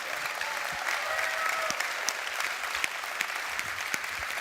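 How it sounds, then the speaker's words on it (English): Warm, continuous applause from a Computex 2024 audience, steady clapping with a few sharper claps standing out, no speech over it. "Hey, people, give him an applause."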